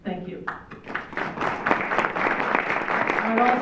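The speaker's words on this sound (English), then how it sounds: "Doctors Avila and Farrell deserve a huge round of applause for putting on this fantastic program" Conference audience applauding at a medical society gathering, a dense wash of hand claps building after a brief opening and holding steady, fairly close and loud, with no speech over it.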